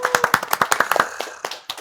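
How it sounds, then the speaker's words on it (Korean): An audience at a university technology evaluation show claps together in a brief burst of applause, quick uneven hand claps close by that thin out after about a second. "자, 여러분 박수 한번 치고 가죠."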